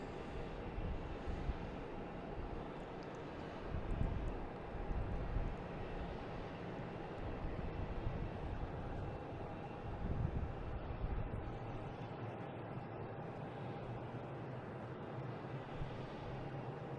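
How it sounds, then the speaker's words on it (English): A jet airliner at Logan airport at dusk rumbles steadily at a distance, a broad low roar with gentle swells and some wind noise, with no talking. "I can see the plane at the end there."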